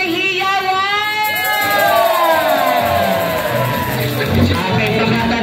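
Party guests at a first birthday celebration cheer and yell together in a lively burst, with a host's voice over the crowd and noisy festive commotion filling the room.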